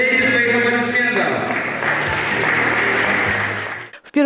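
Audience applause at a college graduation ceremony rises under a speaker's voice and music, continuing as a steady wash of clapping before cutting off abruptly near the end.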